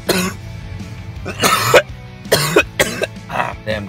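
Repeated coughs from a person, several separate bursts spread over a few seconds, fairly close and loud, with no talking.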